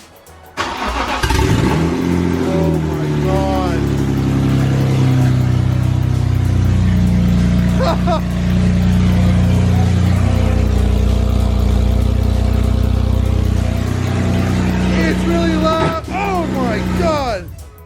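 A BMW E90 car engine with new spark plugs cranks and catches, then roars loudly and revs up and down for a long stretch, with a voice briefly exclaiming.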